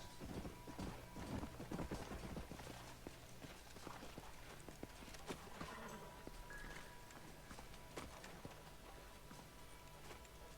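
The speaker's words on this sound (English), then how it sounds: "Let's hold up a minute and find a spot for our horses." Horses walking with clip-clopping hooves in the Red Dead Redemption western video game, a steady run of hoof knocks heard close under a busy, dense game soundscape.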